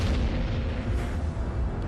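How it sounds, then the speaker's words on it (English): A deep, rumbling explosion sound effect representing an exploding star, a nova or supernova, a sustained low boom that rolls on steadily at moderate loudness with no sharp attack. "the star can no longer accommodate it, and it eventually explodes"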